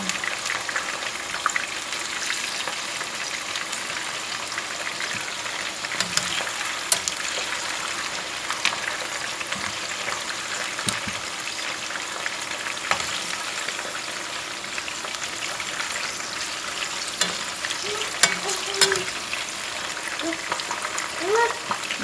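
Chicken wings for hot wings frying in a pan of hot oil, a continuous dense crackle and bubbling sizzle with scattered sharp pops, with people talking intermittently over it.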